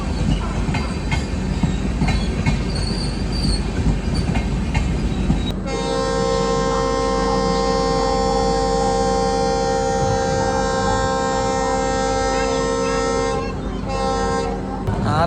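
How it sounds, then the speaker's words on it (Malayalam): Thiruvananthapuram North–Mumbai LTT superfast train hauled by a Ghaziabad-shed WP5 locomotive, arriving loud and close with a long sustained multi-tone horn blast over heavy rumbling wheels and rail noise. "Thiruvananthapuram north Mumbai LTT super fast ആണ് ഈ വരുന്നത്. ഒരു WP5 ലോക്കാണ് കേട്ടോ, ഗാസിയാബാദിൻ്റെ."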